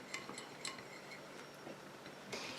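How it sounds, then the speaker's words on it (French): A chamomile eye-contour cream emulsion being stirred in a small container as the water phase is poured in, heard as faint, scattered clinks and light scraping of a utensil against the vessel. "Et je vais rajouter ma phase aqueuse tout en mélangeant."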